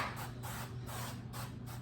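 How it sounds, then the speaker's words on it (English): Cooking oil spray hits a baking dish in three or four short, loud hissing bursts with brief gaps between them, close up and heard without any talk. "I'm gonna spray it with some cooking oil"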